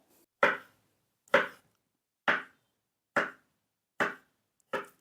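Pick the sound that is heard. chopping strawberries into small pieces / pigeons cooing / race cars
chopping strawberries into small pieces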